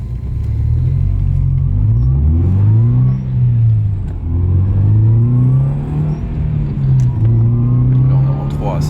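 A Subaru Impreza engine rumbles and rises in pitch as the car accelerates through short gears, with loud, steady drone and pitch sweeps between shifts heard from inside the cabin.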